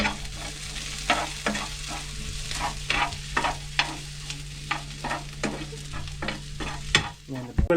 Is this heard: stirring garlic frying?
yes